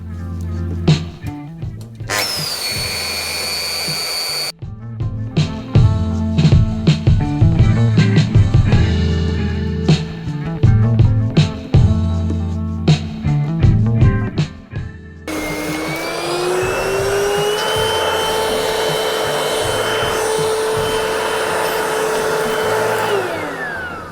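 A wood router cuts during guitar building in a shed, its bit extended about a quarter centimetre out of the collet. The motor gives a loud, continuous whine, broken by a short gap before it starts again and then changes pitch.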